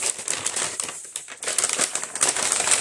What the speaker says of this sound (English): All kinds of paper bag sounds going to be happening at this point.